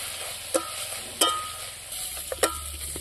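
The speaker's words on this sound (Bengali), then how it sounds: "ভালো করে ভেজে নেব" Kashmiri chilli powder and black pepper powder fry in a pan with a little water, a low steady sizzle broken by a few sharp spoon taps and scrapes, close by with no talking.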